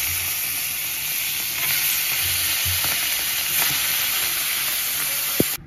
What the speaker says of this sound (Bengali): এবার এক এক করে মাছ দিয়ে দেবো।